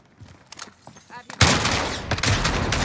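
Gunfire in the video game Call of Duty Modern Warfare. A few scattered sharp shots come first, then a loud dense burst of rapid fire that carries on to the end, with a voice talking over the quieter opening.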